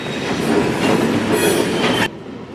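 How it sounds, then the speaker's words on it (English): An FEC GP38-2 diesel locomotive with a freight train rolls past at close range, a loud, continuous roar of wheels and rail noise that cuts off abruptly near the end. "what really caught my eye about the downtown job was that locomotive that you see appearing on the screen. FEC GP38-2 number 511"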